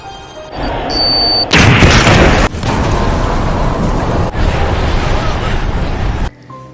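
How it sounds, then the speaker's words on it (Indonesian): A film bomb explosion inside a bullet train carriage hits as a sudden loud blast, then a sustained roaring rumble with a second jolt, and a voice runs beneath it. "Tiba-tiba, bom meledak di dalam gerbong tersebut."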